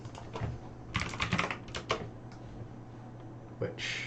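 A computer keyboard clacks in irregular bursts of keystrokes, fairly close and quiet, with short pauses between the typing runs over a low steady hum.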